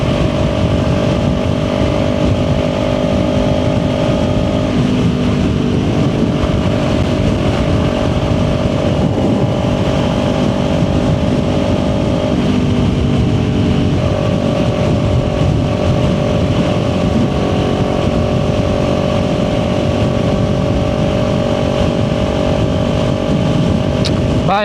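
A Kawasaki Ninja 400 motorcycle cruising on an interstate highway, its engine holding a steady, loud drone with slight pitch shifts as the throttle changes, blended with constant rushing wind and road noise heard from the rider's position.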